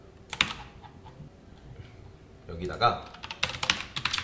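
Bursts of quick, close typing on a computer keyboard as SQL is entered, clustered at the start and end with a quieter gap between; someone talks briefly in the pause.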